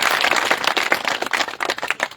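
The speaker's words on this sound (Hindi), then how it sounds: "हर एक व्यक्ति जोरदार तालियां मोदी साहब" Crowd applause at a political campaign rally in Nowshera, dense clapping from many hands sustained and fairly loud throughout, with rippling bursts and no clear voices.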